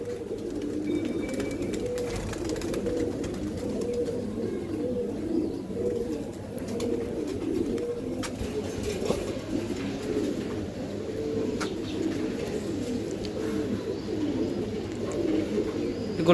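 Many pigeons at a farm keeping Giribaz high-flyer and racer breeds coo together in a continuous low, throbbing chorus that stays steady and close throughout, with no talking heard.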